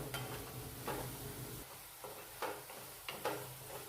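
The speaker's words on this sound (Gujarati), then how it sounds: "તો લસણને પણ આપણે 5 થી 6 મિનિટ ચડવા દેવાનું।" Garlic frying in a pan for green turmeric curry, a steady broadband sizzle with repeated scraping stir strokes roughly every half second to second, close and fairly loud, no voices.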